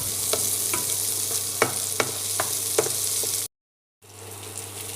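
Fish wrapped in banana leaf roasts in a pan with a continuous close sizzle, punctuated by several light scraping taps, then cut by a short abrupt silence before the frying resumes.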